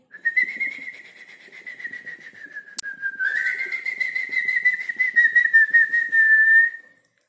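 A person whistles to imitate a bird in a story, giving a sustained, warbling high whistle in two long phrases with a brief click between them, close and alone.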